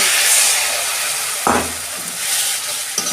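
Masala spice paste sizzles in a pan with a little water, a soft continuous frying hiss broken by a couple of brief scraping stirs.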